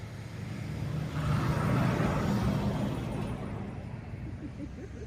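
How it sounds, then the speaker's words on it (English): A loud truck passes on a road outdoors, its broad engine and tire rumble swelling over a couple of seconds, then slowly fading as it moves away. "Here comes a loud truck."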